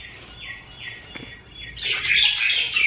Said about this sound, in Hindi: ये मैना आ गई है जो तंग कर रही है